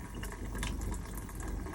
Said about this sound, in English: water pump. You will hear it kind of growl in the background